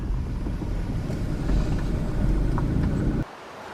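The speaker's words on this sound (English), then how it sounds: "Ooh, a little bit windy today." Steady low rumbling wind buffeting the microphone outdoors in Kentucky, loud and continuous, cutting off abruptly near the end to a quieter hush.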